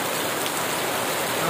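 Heavy morning rain pours in a dense, steady hiss, loud and unbroken, with no voices.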